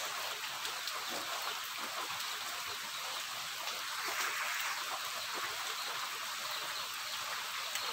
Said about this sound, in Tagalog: Malakas lang ang ulan, di ako makalabas.